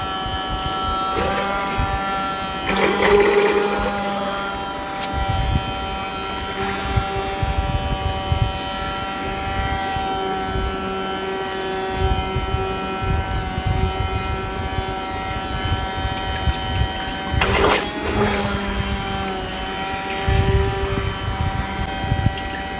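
An electric blender whirs steadily while mixing lye solution and oil, giving a constant close motor hum with a few louder surges.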